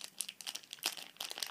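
Scissors cut into a plastic collector bag for toy figures, giving a run of close, crisp crinkling and snipping bursts in an irregular rhythm, with no voices.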